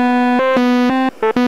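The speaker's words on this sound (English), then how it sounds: "Change it to a sawtooth" A Native Instruments FM8 synthesizer plays a sawtooth wave, a bright, buzzy, harmonic-rich tone in a few repeated notes, loud and close with no talking.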